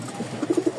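Giribaz racing pigeons coo close by in a short run of soft, throaty pulses that grow stronger toward the end.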